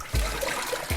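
Dirty water from rinsing North Sea razor clams pours off in a steady trickling, splashing stream that lasts about a second, loudest at the start and close by.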